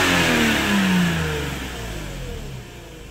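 A 2004 Lexus IS 300 engine with a P0430 code and rich and lean fuel trims revs up sharply, then winds down steadily toward idle, loud and close with no talk.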